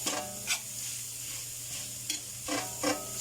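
A spoon stirs palabok sauce in a pan, scraping in a few soft strokes over a faint sizzle, close and fairly quiet with no talking.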